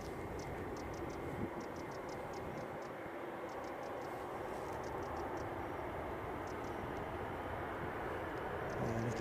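A British Airways jet taxiing at Edinburgh airport after pushback, heard as a steady, distant engine roar and whine that holds level throughout, alongside a faint regular ticking, with no talk.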